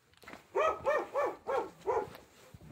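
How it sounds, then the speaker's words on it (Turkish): A dog in a Turkish village gives five loud, evenly spaced barks from fairly close, one after another, with a quiet outdoor background and no talking. "Bize ses veren bir köpek var"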